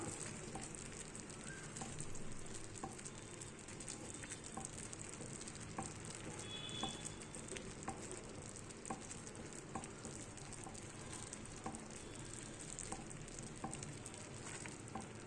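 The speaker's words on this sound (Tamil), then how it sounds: "மெதுவாக கலந்து கலந்து கொடுத்துக்கணும்" A pan of batter for seven cup cake sizzles steadily throughout while being stirred with a whisk, with faint regular scraping clicks at an even rhythm over the bubbling hiss.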